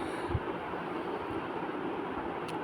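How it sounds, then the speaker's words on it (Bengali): A train pulls into a railway station, heard as a steady broadband rumble and rolling hiss at moderate distance, with a few faint low thumps. "এখানে একটা ট্রেন ঢুকেছে"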